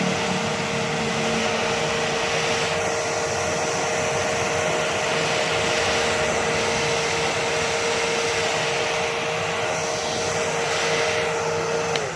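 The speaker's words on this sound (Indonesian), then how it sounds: "kita hair dryer supaya dia cepat kering ya" A hair dryer runs steadily and loudly throughout, drying a hairstyled bun in the crab-shaped sanggul style, with a constant airy whine and no talking.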